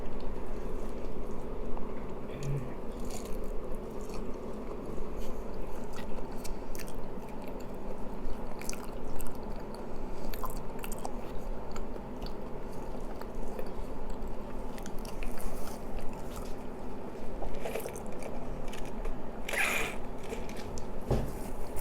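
Someone eats ripe Monthong durian up close, with steady soft wet chewing and mouth sounds against a constant background hum, plus a few faint clicks and taps.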